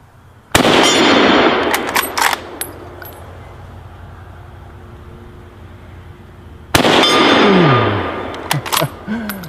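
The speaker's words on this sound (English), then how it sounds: "Oh, it shoots just fine with the bayonet or without it." A Mauser K98K rifle with a bayonet fixed fires two loud, close shots outdoors, several seconds apart, each with a long rolling echo.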